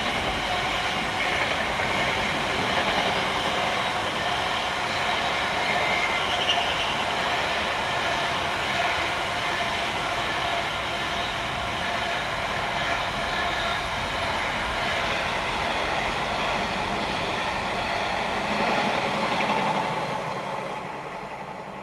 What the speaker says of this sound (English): And here is the freight train